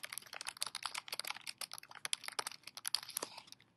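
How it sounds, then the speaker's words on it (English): Fingers type on a computer keyboard while a library name is entered, giving a steady, quiet patter of clicky keystrokes with brief irregular pauses. "If you just start typing, it should pop up."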